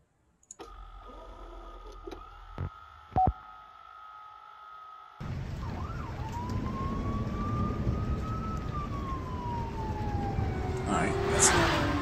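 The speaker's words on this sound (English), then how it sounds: "that's some rain sounds. Some sirens and some vroom vroom." Part of a music track: at first sparse tones and a few sharp clicks, then a wash of rain-like noise with a rising and falling siren sweeping across it and a passing car near the end.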